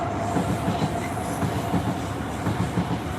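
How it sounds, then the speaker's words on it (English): A train passes close by outdoors with a steady rumble and rhythmic clickety-clack of wheels on rail joints, continuous across the whole stretch. "Just wait for the train."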